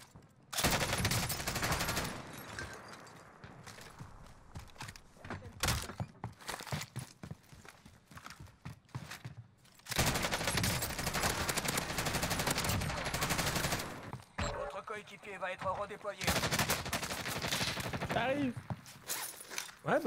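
Gunfire in the Call of Duty Warzone battle royale video game, bursts of shots crackling behind the player amid footsteps and game noise, with players talking throughout.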